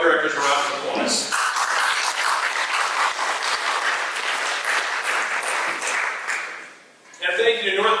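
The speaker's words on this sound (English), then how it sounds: "Please give our Community Port Coquitlam Community Foundation's volunteer board of directors a round of applause" Audience applause for a community foundation's volunteer board of directors at an evening event, a steady dense wash of clapping from a crowd lasting several seconds, with speech around its start and end.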